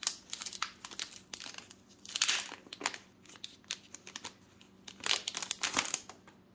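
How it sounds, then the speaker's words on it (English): Paper and plastic crinkle and rip as a sticky envelope of board game cards is torn open, with bursts of tearing and rustling coming in uneven clusters, close up and without any talk. "get this opened up. So one of those sticky envelopes"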